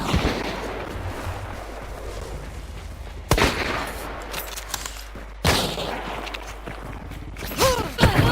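Gunfire in the video game Hunt: Showdown: two loud, sharp shots ring out amid a rumbling background, each followed by a decaying echo, with game sound effects in between.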